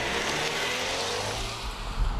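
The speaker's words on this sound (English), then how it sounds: "The turbo engine is pretty smooth. It can also scoot." A 2018 Buick Regal TourX Essence AWD wagon accelerates with its turbo engine, a smooth, rising hum and whoosh of road and engine noise that builds steadily.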